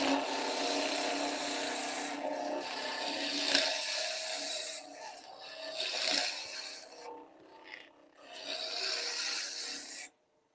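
A spindle gouge scrapes and hisses against spinning wood on a lathe while back hollowing, a rough continuous cutting rasp that swells and eases across several passes before stopping.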